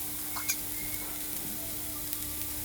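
Kofta being stirred in a single cooking pot, with a few soft scrapes and clinks over a quiet, steady background hiss, faint and close.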